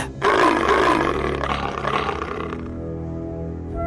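A deep, rumbling lion roar in a cartoon story, loud and close, with a rough growling texture that rolls on for a couple of seconds before trailing off into a lower, fading grumble, no speech over it.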